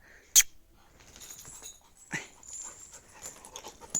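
Dogs pant after playing, with quick breathy bursts and a sharp jingle near the start, close by and fairly quiet over a soft background.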